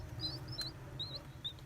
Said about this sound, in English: golden pheasant